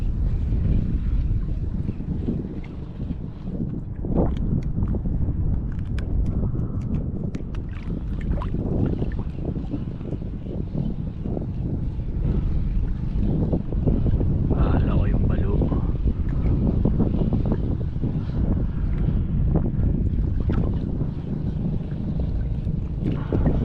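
A small fishing boat out on open water during a DIY tenkara outing, its steady churning rumble and water wash running continuously with heavy wind buffeting the microphone, while people talk over it.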